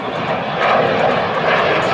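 Eurofighter Typhoon of the Italian Air Force at an air show, its jet engines going to full power: a loud, continuous roaring rush that swells partway through and holds steady, with no voices.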